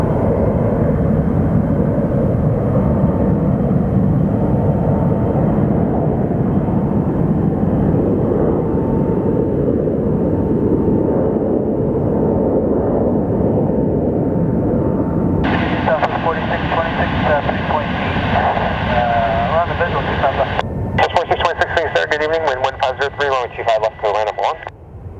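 An airplane at Sky Harbor Airport roars as a steady broadband engine rumble, and a radio voice cuts in with chatter over the noise in the later part.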